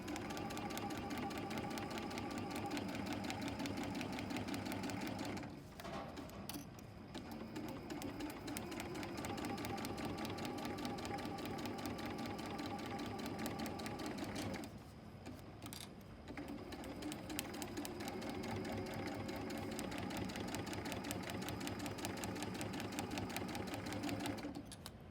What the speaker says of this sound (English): I'm going to sew on my line, removing Wonder Clips as I come to them